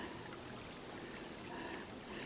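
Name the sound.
small mountain stream trickling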